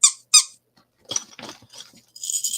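Small squeaker inserts meant for handmade toys squeak in short bursts, two sharp loud squeaks first and then several softer, rougher squeezes, close up and alone.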